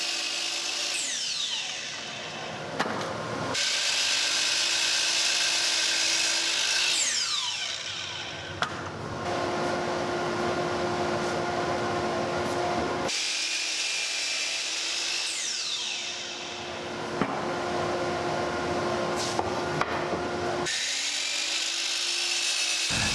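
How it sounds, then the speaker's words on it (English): Power saw slicing wood miters and cutting lumber to length for patio lounge chairs, with several long, loud cuts separated by brief pauses and a steady motor whine throughout. "it was time to cut all the miters and pieces down to their lengths"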